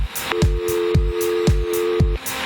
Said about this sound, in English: I can use the machine to generate the dial tone.